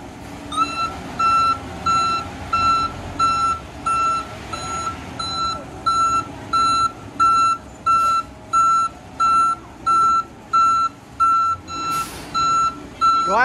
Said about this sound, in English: we're gonna wait for that concrete truck to get here and get the pouring.